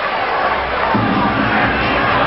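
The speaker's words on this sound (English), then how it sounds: "South Sydney crowd starting to give voice now." A South Sydney rugby league crowd at Redfern Oval in 1987 cheers and roars. The broad, steady swell of many voices grows fuller about a second in and stays loud throughout.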